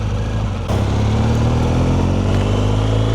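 Steady engine drone heard while riding a vehicle on the road, a constant low rumble with wind noise that jumps louder after a brief dip, close and loud throughout, no talking.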